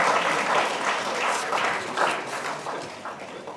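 Applause in a courtroom during a legal lecture on sentencing, a steady wash of clapping from a room of listeners that holds throughout and eases slightly toward the end.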